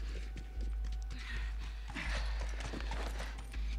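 Horse hooves clip-clop at a steady walking pace in the video game The Last of Us, moderately close over a dense, noisy game background with no talking.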